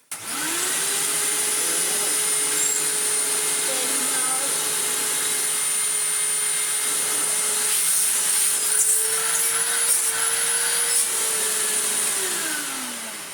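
A Hoover Windtunnel clean-fan upright vacuum cleaner switches on and runs with a loud, steady whirring roar and a constant motor whine, then begins to wind down at the end.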